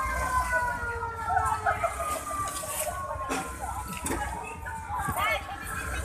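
Fire engine siren wailing in rising and falling sweeps as firefighters arrive at a house fire in Malolos City, heard amid continuous crowd noise and voices close by.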